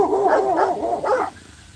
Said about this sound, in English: Yeah, I got a dog or two.